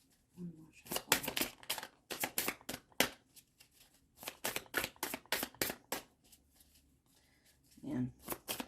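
A deck of tarot cards is shuffled by hand in a quiet room, with bursts of crisp riffling and flicking cards coming in quick rhythmic clusters separated by short pauses.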